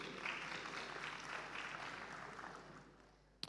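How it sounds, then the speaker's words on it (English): At a Northern Caribbean University graduation ceremony, the crowd claps for the graduates' friends and faculty. The applause is quiet and distant, fades gradually, and ends with a brief sharp knock. "give them a round of applause also"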